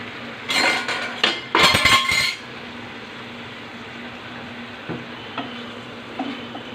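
Pieces of fish, pointed gourd and potatoes go into a pan of cooked-down spice paste. A loud burst of sizzle and clatter comes first, then it settles into a quieter, low simmering hiss.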